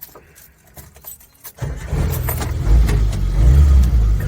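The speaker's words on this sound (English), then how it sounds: "Cold start." Cold start of a Suzuki Samurai engine after a few throttle pumps: quiet clicks and rattles, then the engine cranks and catches, settling into a loud, rough, rumbling idle that swells as the throttle is held.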